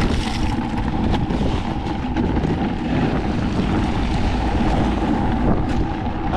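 A strong wind gust on an extremely windy day buffets the microphone outdoors during salting of large lots, a loud continuous roar lasting the whole stretch, with no talk.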